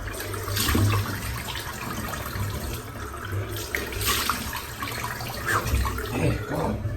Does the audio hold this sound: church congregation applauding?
no